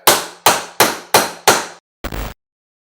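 A small hammer beats a covered chicken breast five times in quick, even succession, each loud thud ringing briefly, followed after a pause by a softer, muffled scraping noise.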